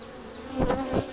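Bees buzzing close by in a short, steady drone, with two louder swells as insects pass near, no talking.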